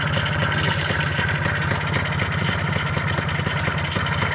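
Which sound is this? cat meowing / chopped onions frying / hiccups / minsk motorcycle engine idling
minsk motorcycle engine idling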